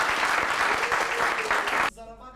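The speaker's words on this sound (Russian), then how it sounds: "Аплодисменты, друзья!" An audience at a student intellectual league tournament applauds in dense, steady clapping that cuts off abruptly near the end, followed by quieter room tone.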